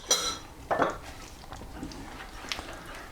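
A utensil clinks and scrapes against a metal pan while yogurt is mixed into chicken karahi curry, two sharp knocks then softer stirring scrapes, close and fairly quiet.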